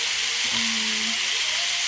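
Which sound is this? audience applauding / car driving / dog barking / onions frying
onions frying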